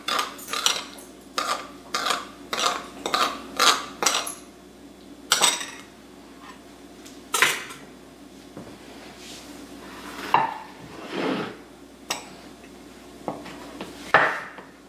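A spoon scrapes and clinks against a pan as cracked black pepper is stirred into a Cornish hen dish with fennel and orange, a run of quick rhythmic taps followed by slower scraping strokes, close and moderately quiet.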